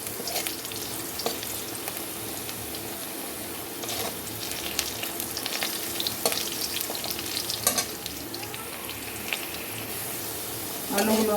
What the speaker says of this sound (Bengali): এখন আমি আলুটা ভেজে নেব।